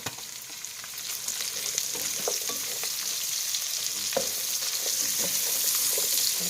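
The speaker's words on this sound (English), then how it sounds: "I'm going to go ahead and add my carrots and celery that I diced up." Diced carrots and celery sizzling in a pan with bacon for minestrone soup, a continuous close frying hiss with scattered small crackles that builds slightly over time.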